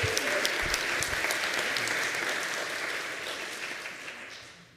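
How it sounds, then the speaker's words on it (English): A congregation applauds a new assistant minister at an annual congregational meeting, with steady, dense clapping from a large group that holds strong and then slowly thins toward the end. "you can clap for that"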